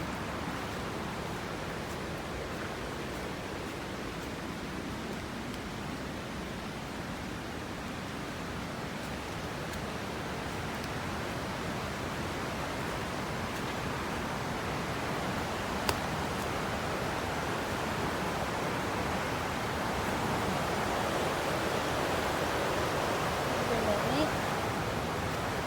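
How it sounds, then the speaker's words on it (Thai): Steady broadband rush of a waterfall in a forest, continuous and fairly loud for the whole stretch with no break, like water pouring over rocks nearby. "มาเที่ยวน้ำตก"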